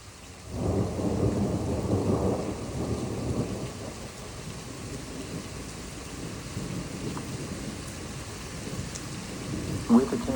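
A loud thunderstorm in Troy, Illinois: a heavy rumble of thunder rolls for several seconds, then eases into a steady hiss of rain that continues to the end.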